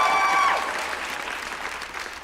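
An audience at a Hindi poetry recital (kavi sammelan) applauds to welcome actor Jatin Goswami, a dense burst of clapping that starts loud and gradually thins and softens.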